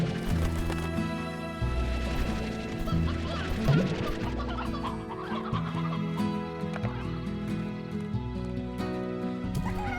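Chickens cluck and squawk in the Slime Rancher video game, a busy overlapping flock over a layered musical backing, fairly loud and continuous with occasional sharper calls.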